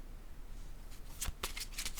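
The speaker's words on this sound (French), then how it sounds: "Je vais déposer une autre carte." Tarot cards being handled and set down on a table, a few quick papery slaps and riffles clustered in the second half, close and fairly quiet with no talk.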